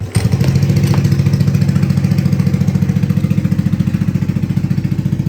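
Motorcycle engine with a freshly tuned carburetor starts with a sharp catch, then settles into a loud, even idle with a steady rapid pulsing beat close by.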